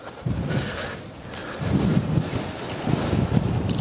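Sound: strong wind buffeting the microphone on a golf course

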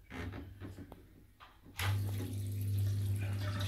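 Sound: pump pushing water through DIY biopellet reactor

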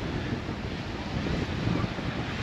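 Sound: strong wind on a sandy beach in Cozumel

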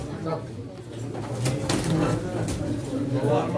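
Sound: pigeons cooing at a pigeon auction

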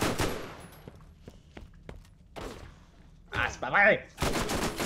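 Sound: gunfire in the video game Borderlands

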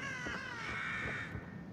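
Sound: crows cawing in video game The Evil Within

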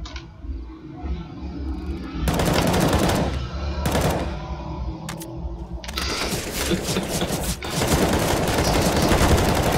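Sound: gunfire in video game Counter-Strike: Global Offensive

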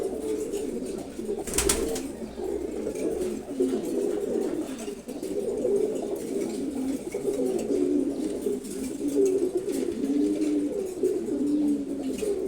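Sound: silver gola pigeons cooing

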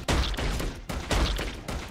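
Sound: cannon firing in Defend Your Life video game

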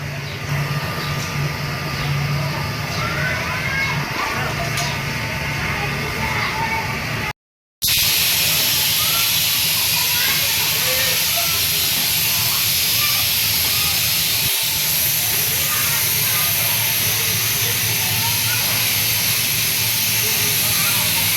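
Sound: soda factory machines washing, packing and filling bottles

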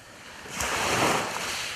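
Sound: waves on Issyk-Kul lake

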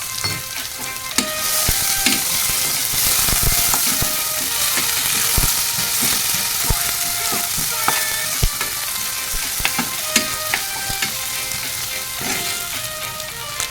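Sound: onions frying in a pan for chicken masala

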